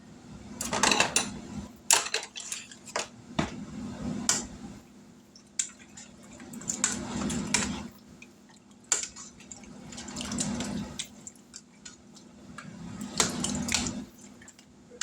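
A spoon stirs through vegetable soup in a pot, giving repeated wet swishes and occasional clinks against the metal in an uneven rhythm.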